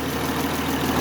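A Chrysler car engine idles unevenly after a carburetor float adjustment, a steady low rumble with slight surging, close and alone.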